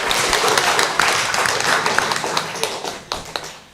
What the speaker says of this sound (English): give big applause to our speakers today